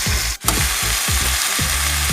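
Onions frying in oil for chicken curry sizzle loudly and continuously, with a rhythmic series of spatula stirring strokes scraping through the pan and no talking.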